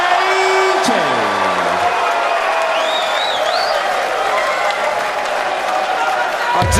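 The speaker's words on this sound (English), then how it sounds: "That was a big cheer for that one." Crowd cheering and applauding a 180 at the Darts World Championship quarter final, a sustained roar of claps and whoops with a commentator talking over it.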